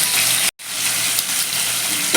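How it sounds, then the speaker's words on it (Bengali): Shrimp fry in hot oil in a pan with a loud, dense, continuous sizzle. A split-second gap breaks it near the start, then the crackling resumes steadily. "চিংড়ি মাছটা প্রথমে আমি একটু ভেজে নেব"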